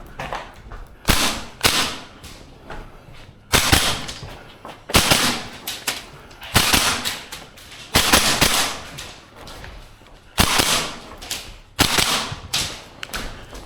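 A Maruyama ISO556 gas blowback airsoft rifle fires on semi-auto, producing sharp, snappy single cracks spaced about a second or more apart, loud and close, each with a brief metallic reverberation, and no talking.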